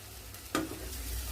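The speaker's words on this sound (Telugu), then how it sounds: "వేయించేస్తున్నాను." Eggplant pieces frying with onion paste, tamarind and spices, a soft low sizzle with one brief scrape of stirring, close but fairly quiet and without speech.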